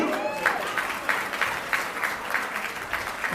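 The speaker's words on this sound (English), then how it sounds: "How about a big round of applause for Katie?" Audience applause at a charity auction gala for Katie, a steady wash of clapping from a moderate-sized crowd lasting a few seconds, with some voices mixed in.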